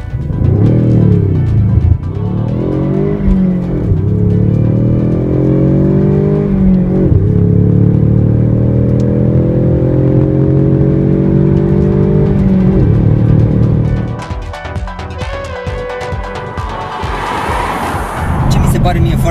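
A 2015 Ford Mustang's 2.3 EcoBoost four-cylinder engine accelerates loudly, its drone rising through a few gear shifts before easing off, with a brief voice near the end.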